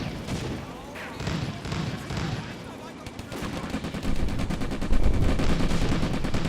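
Gunfire is aimed at a tank in Combat Mission: Afrika Korps, set at Bir Hakeim. Bursts of rattling fire, fairly loud and close, build toward the end of the clip, and the shooting runs under talk in some places.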